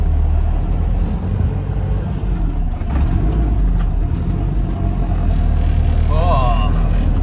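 A car rumbles slowly over onto a ferry, its low engine drone steady and close beneath constant background noise, with a few faint knocks and a short chirping sound near the end.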